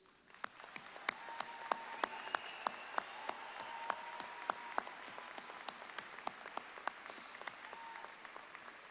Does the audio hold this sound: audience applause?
yes